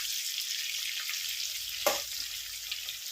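Young, tender jackfruit frying in a pan for a prawn curry, with a soft steady sizzle throughout and a brief louder burst of spitting partway through, with no one talking.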